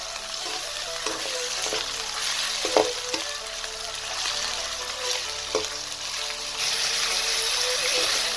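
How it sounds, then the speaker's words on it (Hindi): Mutton fries in hot oil for shaljam gosht, a continuous close sizzle and bubbling with occasional stirring scrapes and taps against the pot. "गोश्त को आप फ्राई करें।"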